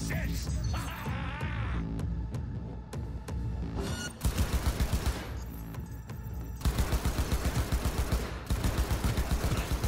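Rapid bursts of gunfire in the video game Cyberpunk 2077, loud machine-gun volleys alternating with single shots and impacts over a musical backdrop.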